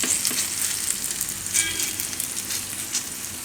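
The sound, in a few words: uttapam (bottle gourd potato pancake) frying in oil on low flame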